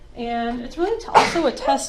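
A single sneeze bursts out partway through a university statistics lecture, short and sharp, over the lecturer's steady talking.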